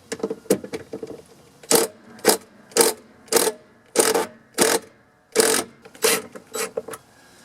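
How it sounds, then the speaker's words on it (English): Impact driver fitted with a 7/16 inch bit breaking loose a rusty washing machine bolt: a run of sharp, rapid hammering bursts, about a dozen short loud pulses spaced unevenly, close up with no talking. "I've got an impact driver, and so I've got a 7/16 inch bit in there, and this will help me just break it loose"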